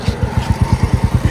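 A Royal Enfield Classic 350 motorcycle engine idles in neutral, loud and close, with a steady low thumping beat of evenly spaced pulses.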